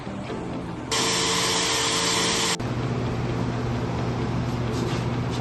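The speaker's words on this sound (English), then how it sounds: "Now I gotta vacuum it off" A shop vacuum cleaner roars loudly for about two seconds, clearing a freshly painted custom traction bar before clear coat. A lower motor drone hums steadily before and after the burst.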